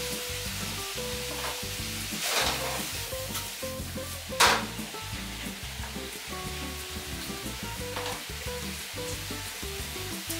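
Onions and garlic sautéing in a pan, a continuous close hiss of frying with occasional stirring scrapes and one sharp clatter partway through, no voices.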